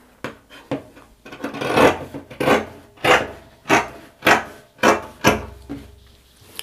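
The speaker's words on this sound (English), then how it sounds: "And also we're going to be trimming out the neckline." Fabric is trimmed at the neckline of a kaftan top, with about a dozen steady, close rasping cuts repeating in an even rhythm and no voices.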